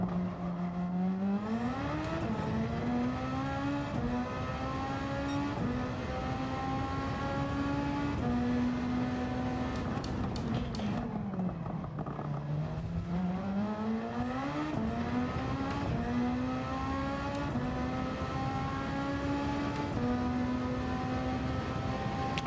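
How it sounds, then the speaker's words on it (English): A turbocharged Super Formula open-wheel race car in a racing video game drones steadily, its engine pitch climbing through each gear, dipping on shifts and braking, then rising again, continuous with no talk. "That turbo still does seem to retain its power band throughout the entire rev range."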